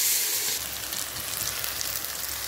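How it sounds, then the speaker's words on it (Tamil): Field beans sautéing in a pan for an aubergine dish give off a steady, close hiss and sizzle, opening with a louder burst as they land, then settling into an even crackle with no voices. "மொச்சப்பயிறு மொச்சக்கொட்டையை இதில் இப்போ நான் சேர்த்து நல்லா"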